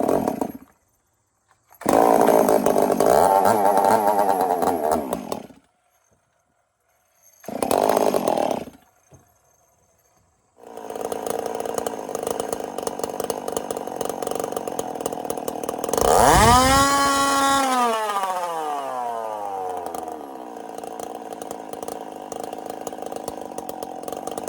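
A ported Holtzfforma G366 chainsaw, a Stihl MS 361 clone running on alcohol, revs loud and close in several bursts with short silences, then idles, climbs to a screaming rev and drops back to a steady idle.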